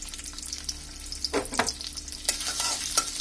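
Chopped onions frying in hot oil for a chicken korai gosht, a bright continuous sizzle with a few louder spatula scrapes and stirs in the pan, close and clear with no talking.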